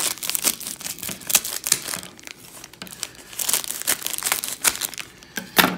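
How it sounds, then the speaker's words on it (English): Tops being cut off a stack of Transformers trading card game booster packs, heard as close, crisp crinkling and rustling of foil wrappers in irregular bursts, with no talking. "Let's go ahead and just all at once just cut off a bunch of these tops."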